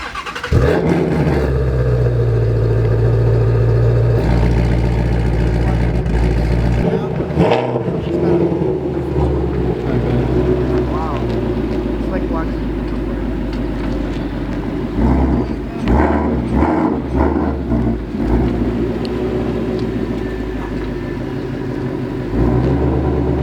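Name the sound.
Ford Mustang Shelby GT350R engine revving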